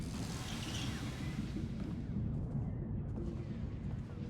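Distant, rumbling volleys of blaster fire from security forces in Star Wars: The Old Republic roll on as a steady, muffled battle din without clear separate shots.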